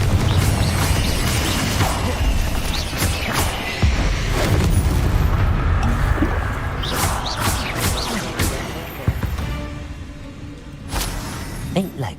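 Confringo, the explosive fire spell in the video game Hogwarts Legacy, set off in combat: repeated booms, thuds and crashes burst out over several seconds amid busy, loud game noise.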